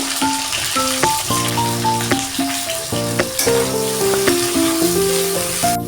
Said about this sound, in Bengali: এবার আমি ভেন্ডিটা দিয়ে দেবো ভেন্ডিটাকে লাল লাল করে ভেঙে নেবো